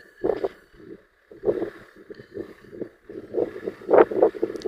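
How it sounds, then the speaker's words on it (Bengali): Strong wind blows across open desert sand and grass, buffeting the microphone in uneven, rumbling gusts that surge and drop repeatedly. "এত হাওয়া, হ্যাঁ, খুব হাওয়া চলছে।"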